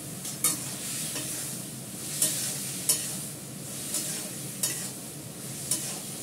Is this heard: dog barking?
no